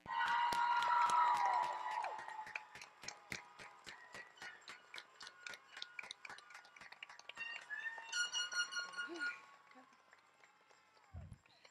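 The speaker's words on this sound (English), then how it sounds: "I'd like to just give us all one more big cheer for class of" Graduating class of 2021 cheering at a high school graduation ceremony, a dense burst of crowd noise opening loud then thinning into scattered claps and whoops, with a voice speaking over the hall partway through.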